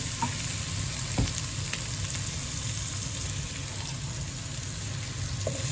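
Curry leaves frying in hot oil for an egg curry: an even, close crackling sizzle with faint stirring clicks and one clear knock, going on steadily without speech.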